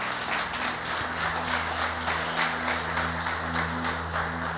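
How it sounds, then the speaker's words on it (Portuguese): A church congregation applauding loudly, with dense, steady clapping in a slightly pulsing rhythm over a sustained musical hum. "então aplauda bem forte o Senhor essa noite"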